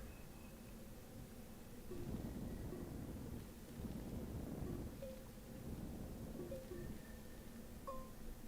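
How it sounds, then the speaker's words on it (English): Thunderstorm in the video game Astroneer: low rumbling thunder rolls and swells in the distance over a steady wash of wind and rain, quiet and continuous, with small synthetic blips scattered on top. "I can hear the storm."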